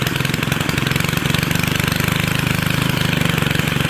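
A Stihl string trimmer engine buzzes close and loud in a fast, steady two-stroke rattle, running continuously at an elevated speed.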